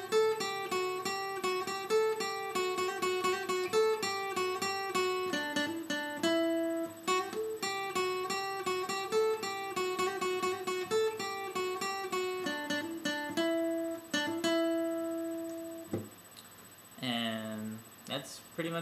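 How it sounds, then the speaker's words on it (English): Guitar bridge riff from a song, played fast with hammer-ons as a quick, dense run of plucked notes at steady volume, ending with a brief strum. "the bridge riff just plays a little bit faster, and there's a little bit more hammering to it"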